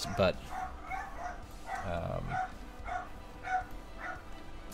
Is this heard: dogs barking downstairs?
yes